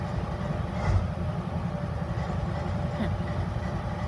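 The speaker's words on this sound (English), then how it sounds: "you can hear the engine really well from here, idling" A deep, steady diesel locomotive engine rumble idles continuously nearby, with a faint knock near the start and no voices.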